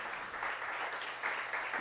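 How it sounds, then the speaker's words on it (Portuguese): Congregation applauding during a church worship celebration, a steady burst of clapping from many hands throughout the short moment. "pode aplaudir ao Senhor"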